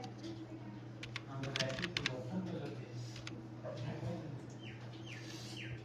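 Computer keyboard keys tapped in bursts while entering a shop address in Tally software, the quick keystrokes clustered with short pauses, someone talking over them and faint birdsong in the background.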